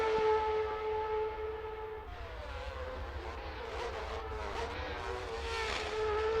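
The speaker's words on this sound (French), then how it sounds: "Écoutez-moi ce bruit au freinage" Race car engines under braking on a circuit, a steady loud drone with sliding, downshifting whine tones and several overlapping engine notes, sustained throughout with no pauses.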